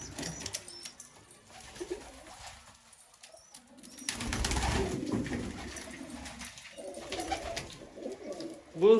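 Pigeons coo in a loft in soft, repeated throaty calls, with rustling and a burst of wing movement partway through, and a faint voice in the background.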